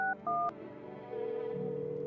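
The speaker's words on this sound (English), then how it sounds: "Let's try calling the neighbor." A telephone keypad plays two short dialing tones in quick succession while a call is placed to a neighbor's landline. Each beep is clear and close, followed by a steady hum of line noise.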